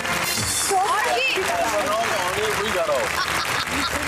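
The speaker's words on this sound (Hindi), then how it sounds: "बहुत सारी तालियां दोनों के लिए।" A television studio audience applauds steadily under music with sliding melodic tones, the clapping spread evenly across the moment.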